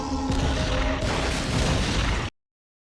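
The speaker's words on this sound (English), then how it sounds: "The explosion was rigged to cave in the tunnel behind them." A rigged explosion caving in a tunnel in a Smallville scene, a loud sustained rumbling boom with crumbling debris that cuts off abruptly.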